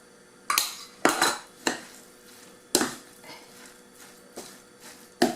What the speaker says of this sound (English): Keep mixing until it's stick together.